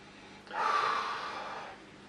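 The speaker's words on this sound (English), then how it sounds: "let's have a sniff" A single sharp sniff close by, a quick rush of air drawn through the nose over a glass of dark beer, lasting about a second.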